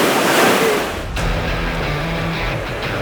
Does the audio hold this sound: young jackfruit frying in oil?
no